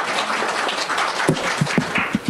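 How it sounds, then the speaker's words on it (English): Seated guests at an essay writing competition ceremony in Trinidad applaud the arrival of a member of parliament, with moderate, brief clapping and a few sharper, closer claps toward the end. "Have a round of applause."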